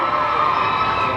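A crowd cheers and shouts loudly at a John Green and The Fault in Our Stars cast event, a brief dense burst of voices with no single speaker standing out.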